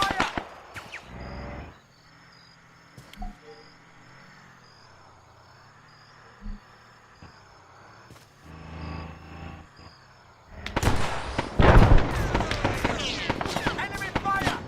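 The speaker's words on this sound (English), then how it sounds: "Enemy fire!" Bursts of rapid enemy gunfire in Arma 3 with the Antistasi mod, a few isolated shots early, then a dense, loud volley of overlapping cracks near the end over a steady droning background, with a voice speaking.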